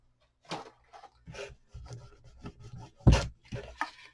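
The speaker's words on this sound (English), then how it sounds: "I'm gonna take my sanding sponge and I'm just gonna go like this. That'll get all of your edges right off." A sanding sponge rubs across edges in short, close scratchy strokes, irregular bursts of abrasive scraping with one louder knock midway.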